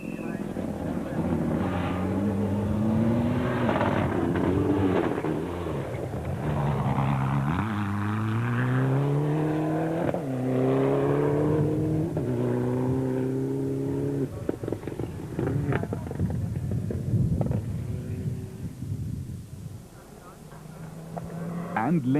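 Subaru rally cars racing at the 2006 Sasol Rally, engines rising and falling in pitch through gear changes, heard loud and steady for the whole stretch with a commentator talking over them.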